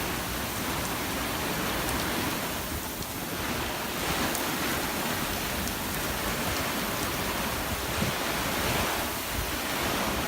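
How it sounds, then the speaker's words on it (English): A squall at sea off Florida's west coast aboard a sailboat: a constant roar of wind and waves washing and breaking, loud and unbroken throughout, with heavy wind buffeting on the microphone. "A little bit of a squall."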